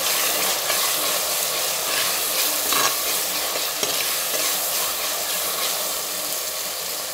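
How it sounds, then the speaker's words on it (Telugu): Ginger garlic paste being stirred and fried in a pot for mutton curry, a steady loud sizzle running throughout with scraping stir strokes and a couple of sharper clinks partway through. "ఇప్పుడు దీంట్లో జింజర్ గార్లిక్ పేస్ట్ వేసుకుని అది ఫ్రై అయ్యేంత వరకు తిప్పుకుంటూ ఉండండి"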